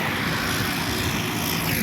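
A tractor engine running beside a swimming pool gives a loud, steady drone that carries on without pause for the whole stretch, with no talk over it.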